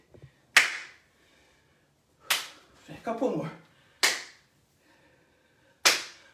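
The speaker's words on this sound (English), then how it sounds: "stretch the arms up and then clap behind the body" Hands clapped sharply behind the body during a keyhole slap exercise in a home bodyweight workout, four crisp separate claps spaced over a few seconds, with a brief spoken phrase in between.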